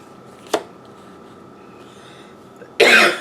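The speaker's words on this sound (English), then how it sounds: "Excuse me, I have a cough." A person coughs during a September 2019 segment, with a brief faint cough early on, quiet stretches, then a louder harsh cough burst at the end.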